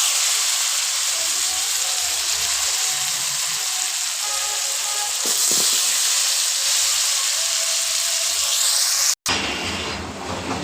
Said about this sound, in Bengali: আগে থেকে ধুয়ে রাখা লাউগুলো এখন দিয়ে দিব।